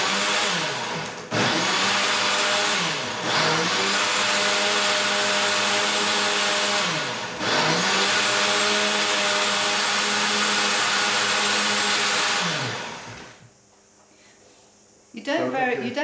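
A blender whirs loudly while making a spinach smoothie, running in bursts with brief cutoffs, then stopping near the end before a short restart. Voices talk over parts of it.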